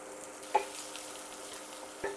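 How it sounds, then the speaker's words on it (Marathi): Two chopped onions frying in a small amount of oil, giving a faint steady sizzle with a couple of light stirring scrapes, alone with no talk. "मी कांदा टाकणार आहे. हे आहेत कट केलेले 2 कांदे."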